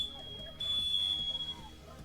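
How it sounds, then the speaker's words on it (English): A smoke-alarm style fire alarm sounds during a live card-game league match, a steady high electronic tone running through most of the clip, moderately faint beneath quiet room noise and some background speech. "Fire alarm going off."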